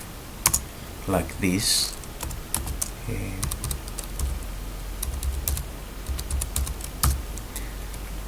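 Typing a KRA PIN on a computer keyboard, a run of sharp close key clicks in irregular bursts, with brief talk partway through.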